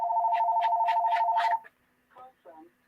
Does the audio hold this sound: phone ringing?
yes